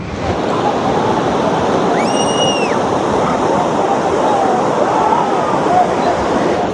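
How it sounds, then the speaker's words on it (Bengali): Constant loud roar of crossing surf waves breaking on Bakkhali beach, with a brief high whistle-like tone partway through over the crashing waves. "এখানে দেখুন ঢেউটা কেমন ক্রসিং করে আসছে"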